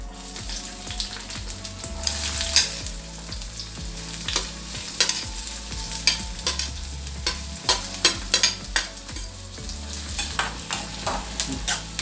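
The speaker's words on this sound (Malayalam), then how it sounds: "ഓയിൽ ചൂടായി. അതിലേക്ക് ഒരു ചെറിയ സവാള അരിഞ്ഞത് ഇട്ട് കൊടുക്കുന്നു." Chopped onion fries in hot oil with a continuous crackling sizzle, punctuated by frequent scraping and clanking strokes of a stirring spoon against the pan, close and steady, with no talking.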